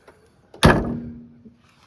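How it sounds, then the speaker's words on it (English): A single solid thunk of a 1955 Cadillac Series 62 convertible door shutting, close and loud, with a brief metallic ring fading over about a second. "Door closed fine and fits pretty well."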